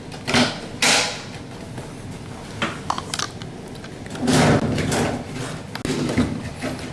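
A plastic cover on a washing machine hookup box is pressed and snapped back into place, producing creaks, clunks and thumps with bursts of handling noise in a small room.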